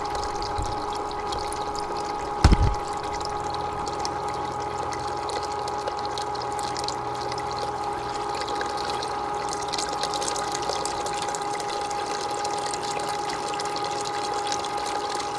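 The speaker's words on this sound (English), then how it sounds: "We don't need to have so much water moving." Water rushes steadily and loudly through a GOLDROP 5-gallon bucket gold trap while a valve is adjusted. A constant pump-like tone runs underneath, with a single knock early on.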